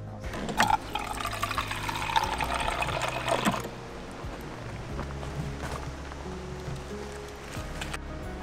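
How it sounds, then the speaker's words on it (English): A slightly squeaky hand water pump in a Land Rover Defender overland camper pumps and splashes water for a few seconds, close and fairly loud, then quietens to soft background noise. "You pump it, and then water from down here."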